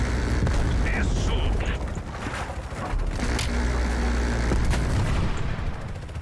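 Sustained rapid-fire minigun bursts in Call of Duty: Black Ops Cold War, a dense continuous roar with booming explosions layered over it, loud and close, with chatter mixed in.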